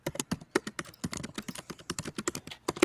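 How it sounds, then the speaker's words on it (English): Someone types quickly on a computer keyboard nearby, a steady patter of crisp key clicks with a few heavier strikes, with no talking over it. "Someone is typing away."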